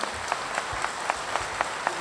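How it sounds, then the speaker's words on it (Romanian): Concert crowd applauding at an outdoor Bucovina Day show with a Romanian folk orchestra, the clapping falling into a rhythmic, evenly spaced beat over a soft wash of hands, no voices. "vă rog să o aplaudăm până o premiem"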